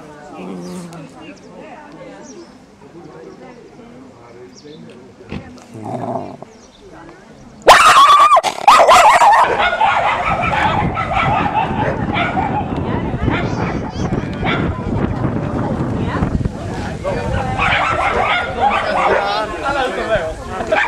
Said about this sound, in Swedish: Det är grävande hundar det här.